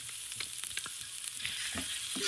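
Onion and garlic dropped into hot oil in a pan, a short burst of dense sizzling with quick clicks and stirring taps, rising slightly at the end.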